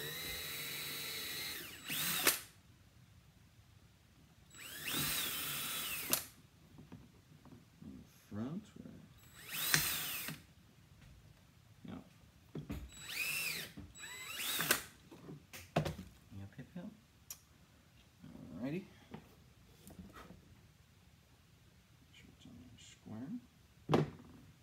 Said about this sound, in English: Putting in some nice flathead screws.